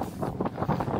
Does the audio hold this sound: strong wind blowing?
yes